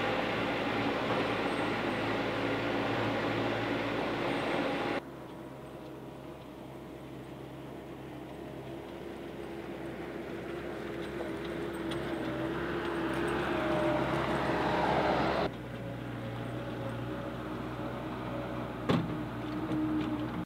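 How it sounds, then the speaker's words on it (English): A skid steer loader drives across a wet, rough field on a backyard motocross track, its engine a steady close drone that shifts in pitch and load a few times, with a brief knock near the end and no talk. "I'm going to hop in the skid steer right now and go out in the field"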